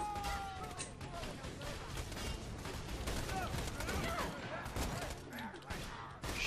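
Bursts of rapid gunfire from the Anarchy shotgun in Borderlands 2 crackle through a chaotic game fight, with a player talking over the shots.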